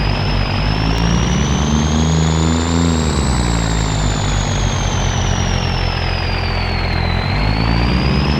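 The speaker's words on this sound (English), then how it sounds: "This Cummins that just came out, this truck is sick. It sounds good too." Cummins diesel truck engine in Farming Simulator 25, a loud, steady drone that rises in pitch, levels off, then dips and climbs again across the whole stretch with no talk over it.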